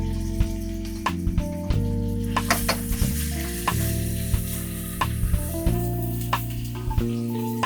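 Ginger and garlic sizzle in a hot pan, a continuous crackling fry broken by frequent stirring scrapes and clinks, close and fairly loud.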